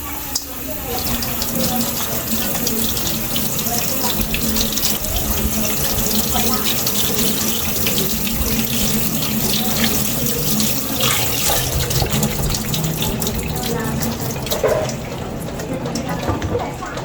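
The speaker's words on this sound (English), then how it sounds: "Give this a rinse." Tap water runs steadily and loudly into a kitchen sink as something is rinsed under it. The gushing stream stays close and continuous throughout, and a voice briefly speaks over it.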